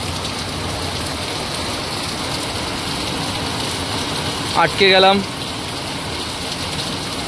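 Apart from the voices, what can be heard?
rain falling on a car during a journey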